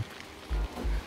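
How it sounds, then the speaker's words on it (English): Heavy rain falling outdoors in a mountainous area, a steady close wash of hiss with a couple of low thumping bursts, no voices. "It's raining so much right now that I don't want to stay outside with my phone."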